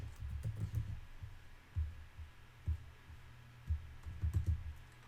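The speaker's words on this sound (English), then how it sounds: "So I'm going to type exit here. I will type exit here and copy and paste." Typing on a computer keyboard during network configuration work, soft muffled key presses in small irregular bursts, faint and close over a low electrical hum, with no speech.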